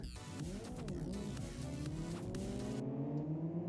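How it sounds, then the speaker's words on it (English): Several race cars in the Live for Speed racing game accelerate out of the pits onto the track, overlapping rising engine whines layered together, steady and loud with gear-change pitch sweeps. "All the cars make their way out onto the racetrack."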